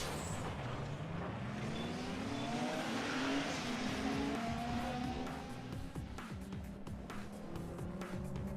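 A car in the racing video game Need for Speed Underground 2 drifts, its engine droning and revving with rising and falling pitch over a steady rumble, tire noise mixed in, loud and continuous.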